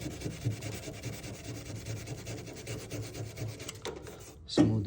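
Steady rubbing and sanding strokes smooth a surface during restoration of a 240, a continuous close scraping texture that swells briefly near the end; no one speaks.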